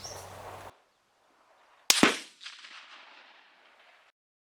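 A single loud, sharp crack from a 1903A4 rifle at a shooting range, followed by a decaying echo, heard close with quiet before and after.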